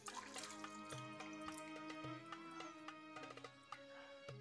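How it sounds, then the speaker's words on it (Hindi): Water poured into a jug for mulberry sharbat, a steady trickling and dripping stream with small splashes, close and fairly quiet, with no talk over it. "तो यहाँ पर मैं दो गिलास पानी के शामिल करूँगा।"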